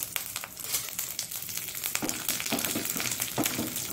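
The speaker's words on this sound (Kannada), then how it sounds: "ಉದ್ದಿನ ಬೇಳೆ ಬಾಡಿ ಇದಾಗಲಿ, ಸ್ವಲ್ಪ ಫ್ರೈ ಆಗಲಿ ಸಾಕು" Urad dal crackles and sizzles in hot oil in a pan, a dense, continuous close-up frying hiss with brief pops and occasional stirring.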